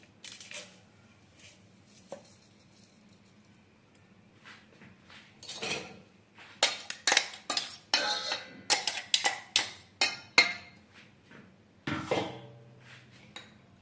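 Ground mustard and fenugreek tipped into a large metal vessel for a spice mix, giving a run of close, sharp clinks, taps and scrapes that grow busier midway, with no talking.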